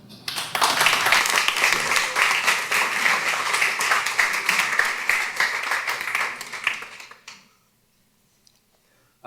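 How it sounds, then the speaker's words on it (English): An audience at an evening talk breaks into brisk applause for the speaker, dense and close for several seconds before stopping abruptly into near silence. "Big round of applause for Andy"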